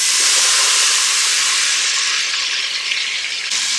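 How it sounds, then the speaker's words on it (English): Carrots and onions hitting hot grease in an Instant Pot with pork, a loud, dense, continuous hiss that eases slightly toward the end, close up with no voices. "I'm going to add those carrots and onions."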